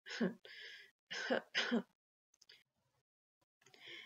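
Several harsh, broad bursts in close succession, like a rough cough fit, followed by a quiet gap and another short burst at the end.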